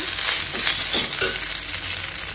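Leftover fried rice reheating in a pan, a steady close sizzle with stirring scrapes now and then, running on without talk.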